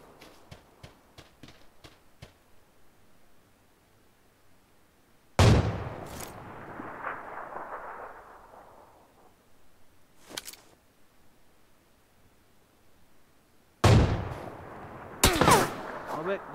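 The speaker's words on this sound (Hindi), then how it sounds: "अबे गोली चल रही है मेरे ऊपर।" Gunfire in the battle royale game PUBG Lite: loud, sharp shot bursts near the start and again near the end, with a single crack midway and faint rapid pops early on, over quiet background noise.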